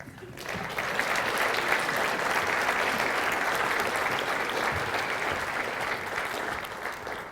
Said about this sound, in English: I think they're clapping because I'm done.